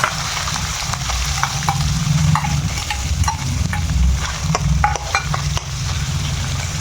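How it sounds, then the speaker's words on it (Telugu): Chicken pieces frying in hot oil in a pan for chicken momos, a steady loud crackling sizzle with scattered sharp pops and stirring scrapes running throughout, no voices. "ఇప్పుడు ఈ చికెన్ని ఇందులో వేసుకొని ఫ్రై చేసుకున్నాం"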